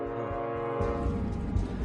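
A diesel freight train rolls along the rails, a steady low rumble joined midway by a louder surge of engine and wheel noise, with a faint sustained horn tone over the top.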